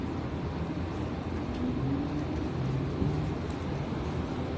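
A steady low rumble fills the inside of a moving passenger train in the Philippines, a constant droning hum from the carriage with faint tonal whines rising and falling beneath it.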